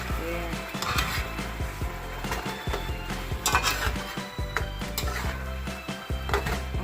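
Spicy pork ribs frying in hot chili sauce, with steady sizzling under repeated scraping and clattering of a utensil stirring against the pan, close and continuous.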